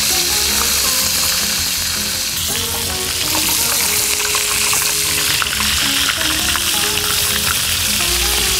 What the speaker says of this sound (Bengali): যেই সাইডগুলো তেলে পড়ছে না চেষ্টা করবেন দাবিয়ে দাবিয়ে সেগুলোকে তেলে ভাজার জন্য।